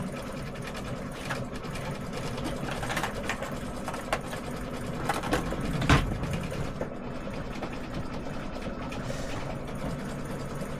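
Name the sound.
embroidery machine stitching a tea towel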